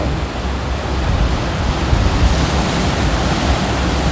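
Strong sea waves break on a beach at Sacheon near Gangneung at night, a dense, continuous roar of surf that fills the whole scene at steady loudness, with no talking.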